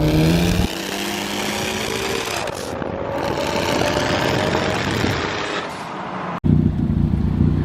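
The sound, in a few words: tuned Infiniti Q50 loud exhaust pops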